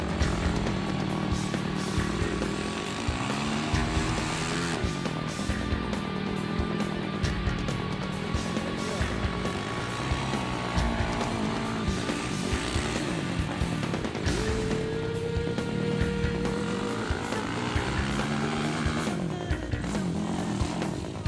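Yamaha YFZ 450 ATV with Fox Float shocks and an aftermarket pipe, ridden on desert trails near Las Vegas, its engine revving up and down continuously with rising and falling pitch, moderately close.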